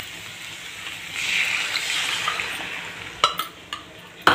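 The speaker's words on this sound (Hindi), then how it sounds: "अब इसमें डालेंगे हम आटे का घोल।" Flour batter poured into amaranth greens cooking in a pan and stirred, a close watery sizzle and swirl that swells midway, then a few sharp clicks of a utensil against the pan.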